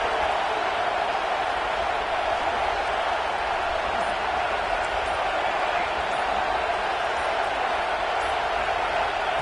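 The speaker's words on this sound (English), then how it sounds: "this home crowd is fired up and ready to make a difference today." Home crowd roaring at a Florida vs LSU college football game, a steady loud wash of cheering with no breaks, while a commentator's voice runs underneath.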